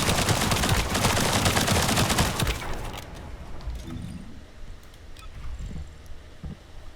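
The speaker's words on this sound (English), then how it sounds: "So you just shoot, and then you reactivate and you just keep shooting." Rapid automatic gunfire from the shooter game The First Descendant bursts dense and loud for about two and a half seconds, then gives way to quieter game effects and scattered impacts.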